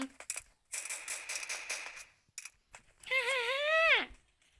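Rapid bursts of gunfire ring out in a 4v4 ranked shooter video game, followed by a rising electronic tone.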